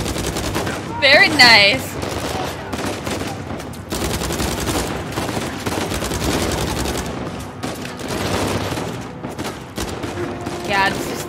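Rapid automatic gunfire from a weapon in the video game Uncharted 4 A Thief's End rattles on loudly and almost without pause, while someone speaks briefly over the shooting.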